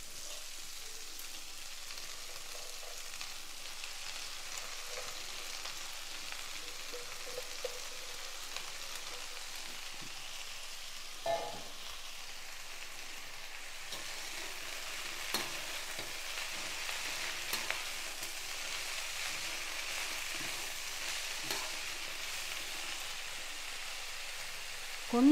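Mulai keerai spinach sautéing with onions in a pan, a soft steady sizzle of frying throughout with occasional stirring clicks and scrapes, moderately quiet and without any talking.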